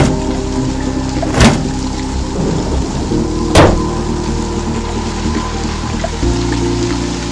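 Heavy rain pours steadily, broken by two sharp, brief thunder cracks a couple of seconds apart.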